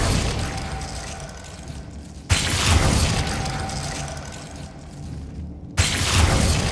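Confringo blasting spells in Hogwarts Legacy go off in two sudden, loud bursts, each followed by a dense rumbling, crackling wash of debris and game effects.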